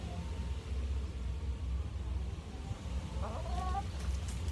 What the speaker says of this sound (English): Chickens found a nice place to chill out in the hot sun.